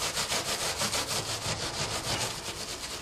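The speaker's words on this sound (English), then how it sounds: "get the stainless steel ball on it" A stainless steel scourer ball scrubs an oven surface in fast, rhythmic strokes, a close, steady rasping scrape repeating several times a second with no voices.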